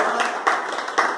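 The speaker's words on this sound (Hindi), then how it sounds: "तालियां बजाओ" At an acting audition, a few short bursts of hand clapping come at roughly half-second intervals over a low background hum. The claps are sparse and moderately close.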